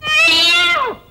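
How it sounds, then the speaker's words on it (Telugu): A single loud, close cat meow, one clear drawn-out call with a falling tail, heard alone without talk. "It's a cat. ఇది క్యాట్."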